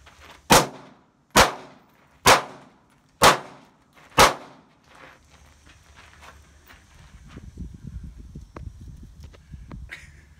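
Five sharp gunshots ring out on a shooting range aimed at a target seven yards away, evenly spaced, loud and close, each with a short decay, followed by quieter shuffling and rustling.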